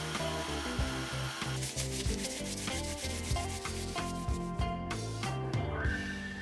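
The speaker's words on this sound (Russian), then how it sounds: "После мелкой наждачки полирую алмазной пастой." Knife handles being hand-polished with diamond paste after fine sanding, a continuous close rubbing, scrubbing sound over a steady tonal background.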